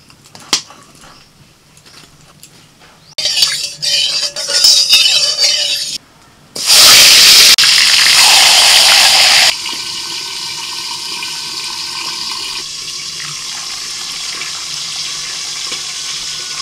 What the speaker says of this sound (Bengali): এবার একটু ভালো করে জলটা ঝরিয়ে তুলে নিচ্ছি